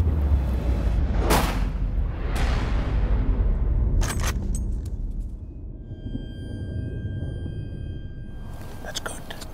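A single loud rifle shot booms early during a buffalo hunt on safari, followed by a fading rumble and hushed voices nearby.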